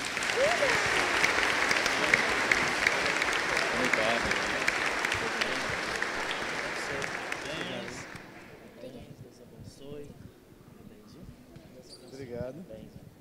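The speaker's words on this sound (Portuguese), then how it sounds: "Uma salva de palmas." A congregation at an Easter Sunday Mass in a church applauds, a steady wash of clapping lasting several seconds before fading out, with faint voices after it dies down.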